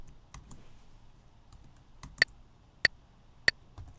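Metronome click track in Studio One, several sharp isolated clicks spaced unevenly over faint quiet background, crisp and close.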